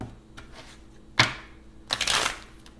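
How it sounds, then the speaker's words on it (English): Tarot cards are shuffled in two quick riffling bursts, the second longer and louder, close up with no talking. "was a terrible shuffle."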